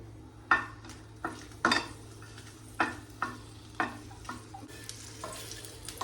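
Dry red and green chillies roasting in a hot pan, with a faint sizzle under a series of sharp spatula clinks and scrapes against the metal, spaced about a second apart.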